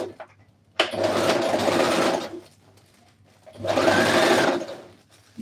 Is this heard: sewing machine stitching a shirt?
yes